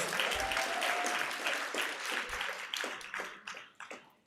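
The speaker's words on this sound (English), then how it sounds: "A round of applause." An awards-ceremony audience breaks into applause, a broad wash of many hands clapping that starts full and gradually thins and fades toward the end, with a few sharper claps standing out.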